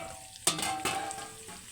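Chicken tomato fry sizzles steadily in a pan, with a couple of sharp stirring clatters breaking through the continuous close frying hiss.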